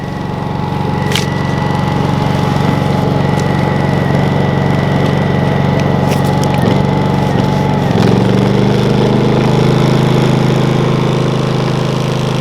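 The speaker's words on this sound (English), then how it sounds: "You can hear how the generator got a lot quieter and it's running slower." A portable generator powering and charging an RV runs steadily close by with an even engine drone, shifting pitch partway through as its speed changes.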